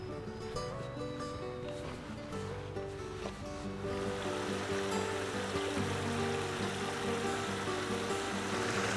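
Running water from a constructed backyard landscaping waterfall, a steady full wash that swells louder midway, with faint music underneath and no talking.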